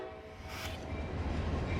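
A local freight train rumbles past, heavy low rolling noise building steadily and loud, with a brief horn-like tone near the start.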